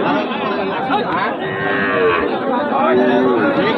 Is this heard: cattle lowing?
yes